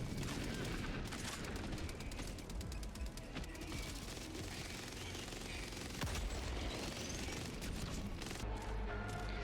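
Anti-material rifle gunfire in a shooter video game, a dense, loud barrage of booming shots and battle noise filling the whole stretch without pause.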